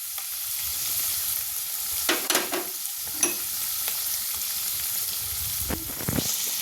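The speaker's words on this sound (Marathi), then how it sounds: "हे तेलात छान परतलं" Schezwan sauce base frying in oil in a home kitchen, a steady close sizzle with scattered utensil scrapes and clinks of stirring, no voices.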